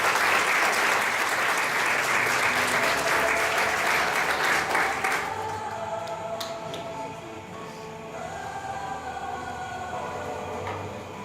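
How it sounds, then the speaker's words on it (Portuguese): An audience at a health conference applauding, loud and dense clapping for about five seconds that then drops off to scattered claps and room murmur. "Uma salva de palmas."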